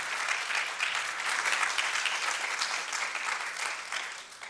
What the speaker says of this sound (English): Let's give Sharri another round of applause